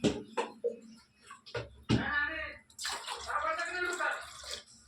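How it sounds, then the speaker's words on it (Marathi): Two glasses of water poured into a cooking pot, with a splashing pour in the second half and a person talking over and around it. "आपण सर्वप्रथम पातेलं ठेवून घेतलं आहे, त्यामध्ये 2 ग्लास पाणी टाकणार आहोत आपण."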